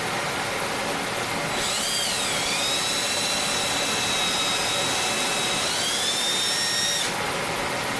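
A wood lathe spinning a wood and Alumilite pepper mill blank gives a steady loud whine and whir that rises in pitch partway through, with a constant hiss of room air cleaner underneath.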